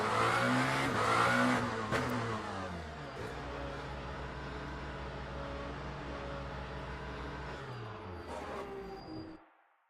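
A race car in the Le Mans Ultimate racing game rolls into the pits, its engine loud at first with revving and gear shifts, then settling to a steady lower drone before cutting out.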